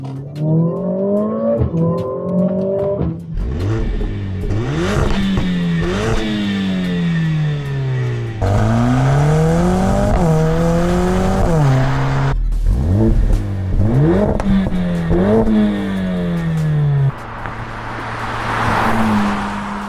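Mercedes-AMG CLA 45 S high-strung turbocharged four-cylinder revving hard through repeated climbing and falling engine sweeps, growling loudly and close at high RPM with brief gaps between pulls.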